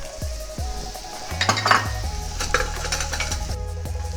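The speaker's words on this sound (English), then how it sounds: "We got a good little sizzle going on now." Clinking cookware and a steady oil sizzle as mushrooms fry in a pan, with metallic clatter and stirring noises close by; no voices.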